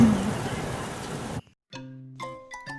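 Rain falling steadily as a dense hiss for over a second, then cutting off abruptly before a few bright chiming tones.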